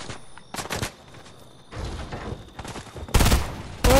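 Video game gunfire in several bursts, short sharp shots early, then louder dense volleys near the end, with quieter gaps of game ambience between them.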